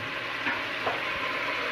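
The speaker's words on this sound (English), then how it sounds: "Does everybody hear the sizzle?" Vegetables sizzling in a pan for veggie stock, a dense, steady frying hiss at close range with faint stirring clicks, no talk.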